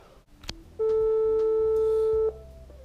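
A single telephone ringback tone sounds while a call waits to be answered. The steady electronic beep lasts about a second and a half, clear and fairly loud over faint room noise.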